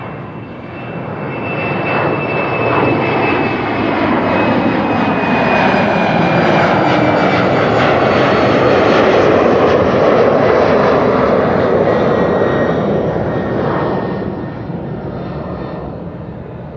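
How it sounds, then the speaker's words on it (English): An Embraer 190 takes off at Amsterdam Schiphol, its jet engine roar rising, holding loud and close for several seconds, then easing as it climbs away, with no voices. "The Embraer 190 taking off"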